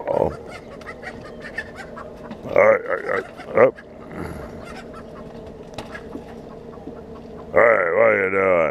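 Hens in a chicken coop cluck and squawk in scattered bursts, with a louder burst of calls near the end, while someone talks over them.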